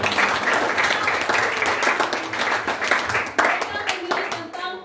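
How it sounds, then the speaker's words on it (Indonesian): A class of students in a school classroom applauds, with rapid, uneven clapping close by that thins into separate claps near the end, and a few voices mixed in. "Berikan tepuk tangan."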